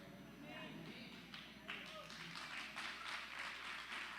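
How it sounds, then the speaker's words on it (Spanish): An audience applauding, faint scattered clapping that swells into a steady patter partway through, with a voice talking over it. "No sé por qué aplaudieron, pero ese soy."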